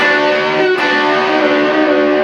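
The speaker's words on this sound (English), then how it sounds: "And then we're going to bend them 3 times without striking them." An electric guitar sustaining bent strings through a wah-wah pedal, the tone held and shifting smoothly with one brief sharp change partway, steady and alone.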